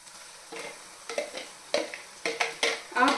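Chopped tomatoes go into a pan of golden fried onions and sizzle as they are stirred, with several scraping stirs in irregular bursts over a steady low frying hiss.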